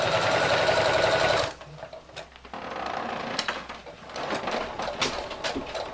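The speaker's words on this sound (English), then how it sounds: "I'll just sew straight across the bottom just to finish that off." A sewing machine stitches straight across the bottom of a fabric cupcake hand warmer in pink thread. A loud, steady, rapid whirring runs for about a second and a half, then stops, followed by quieter handling clatter and rustles.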